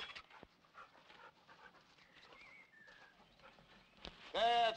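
Dogs panting in a drama film scene, with quick breathy huffs at moderate distance and a brief tonal burst near the end, while people speak at times.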